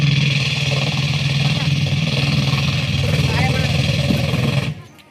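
A man imitates a helicopter passing overhead with his voice, making a loud, continuous throbbing drone with a buzzy pulsing texture for several seconds before stopping sharply.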